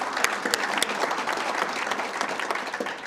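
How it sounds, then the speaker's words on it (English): An audience applauds at the NZ First Convention 2024, a dense, steady wash of many hands clapping together, loud and continuous for about three seconds with no voices. "I think they all deserve a huge round of applause."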